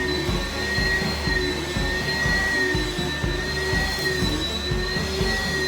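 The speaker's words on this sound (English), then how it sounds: "there is a rubber sealant around the vacuum, so if you do hit something, it tends to cushion it" A vacuum cleaner with a rubber bumper seal runs steadily over carpet, giving a constant close whirring drone with a thin high whine and soft rhythmic thumps as it is pushed back and forth.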